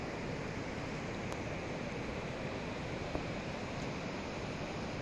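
Waterfalls pour down steep rock cliffs below the Sukh Dhali pass near Mani Mahesh, a steady, distant broadband roar with no variation and no voices.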